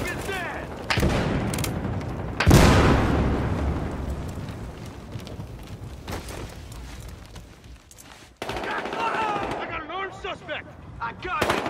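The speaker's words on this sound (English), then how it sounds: "Here goes the grenade." In a Battlefield Hardline game match, a loud grenade blast is followed by bursts of gunfire and scattered shots, with people talking and shouting in between.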